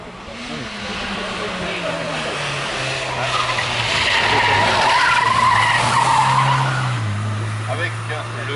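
A 1990 Peugeot 205 GTI with a 1.6-litre engine races up a historic hillclimb. Its engine rises and shifts through gears as it passes with a brief tyre squeal, and a public-address voice talks over it.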